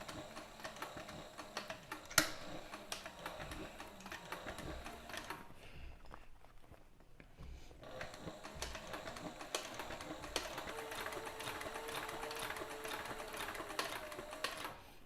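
A sewing machine stitches a keeper onto a 6-inch back cinch in rapid, steady mechanical bursts, pausing briefly midway before resuming, quiet and close with no talk.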